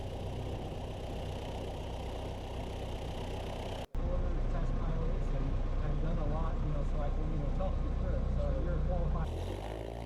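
A Super Duty light aircraft taxis on the ground, its engine holding a continuous, close idling drone with a brief dropout partway through and a steady, rough low rumble throughout.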